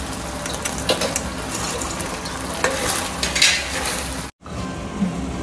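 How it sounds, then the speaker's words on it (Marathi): Manchurian balls drop into thickened cornflour gravy and get stirred, giving a steady loud sizzle and bubbling with scraping stir strokes, a brief cut of silence, then more sizzling. "आता आपण मंचुरियन सोडूया."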